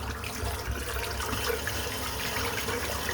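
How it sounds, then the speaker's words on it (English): Running tap water splashes steadily as a shaving brush is rinsed under it, a continuous close hiss with no talking. "I'm going to rinse the brush out"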